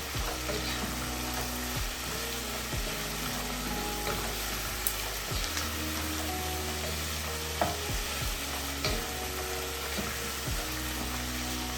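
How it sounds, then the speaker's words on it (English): Beef and onions brown in oil in a pot with a continuous sizzling crackle, punctuated by periodic scraping stirs, close and steady at moderate volume. "All we need the oil for is to brown the meat and cook the onions."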